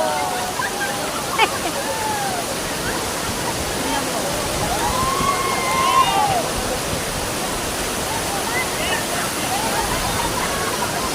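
Steady broadband roar of a waterfall at a swimming spot, continuous and close throughout, with occasional faint voices and splashes of people bathing nearby.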